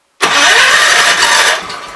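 A Kohler K241 single-cylinder engine fires abruptly and catches, then runs loud and steady at close range for about two seconds with no talking.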